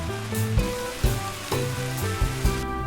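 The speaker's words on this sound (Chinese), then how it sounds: "最后转大火将汤汁收浓" A beer-braised Argentine red prawn sauce reduces over high heat. It gives a close, steady sizzle and bubbling, with a soft stir or clink about every half second.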